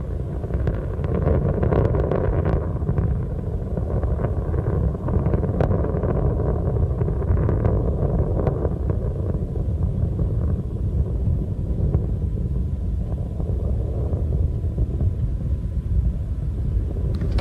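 Space Shuttle Columbia's three liquid-fuel engines on a launch from Complex 39B, heard as a loud continuous low rumble with wind-like roar through the whole stretch, distant and unbroken.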